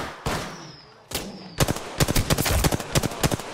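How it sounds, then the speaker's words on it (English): Bursts of automatic gunfire in the battle royale shooter Apex Legends: two single shots, then a rapid stuttering string of loud, close rounds fired in quick succession, with no talk over them. "Look how he's shooting."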